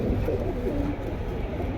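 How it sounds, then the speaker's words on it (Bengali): Indian high flyer pigeons cooing close by, a low continuous murmur of several birds with no voices over it. "এগুলো মানে হাই ফ্লায়ার কবুতর ইন্ডিয়ান হাই ফ্লায়ার কবুতর"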